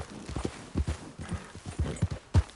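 A horse's hooves clip-clop at a walking pace in the western game Red Dead Redemption 2, with a steady uneven rhythm of distinct close thuds and no other sounds.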